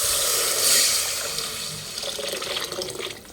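Water poured into rice in a cooking pot, a loud splashing stream that tapers off, followed by lighter trickling and drips.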